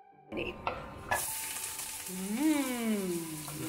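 Onion sizzles in hot oil after a few clattering kitchen sounds, while a wavering high-pitched tone rises and falls in the background.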